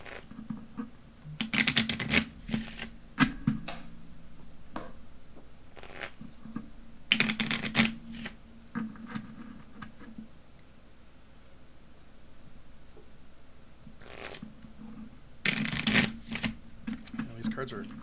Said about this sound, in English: you're not supposed to shuffle collectible cards in a way that can bend